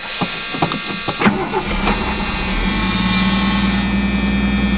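A 1980 Ford Mustang engine cranks with a few sharp clicks, catches, and settles into a steady, smooth idle close by.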